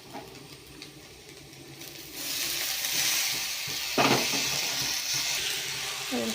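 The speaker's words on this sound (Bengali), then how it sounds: "এখানে চাউমিন আলু ভাজাটা দিয়ে হবে একটু ভেজে নেবো।" Boiled chowmein tossed with fried potatoes in a pan: a quiet start gives way to a steady loud sizzle with scraping stirs and a sharp clatter midway.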